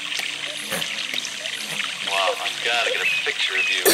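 A waterfall makes a steady, hissing rush of falling water that grows fuller toward the end, with a voice speaking over it.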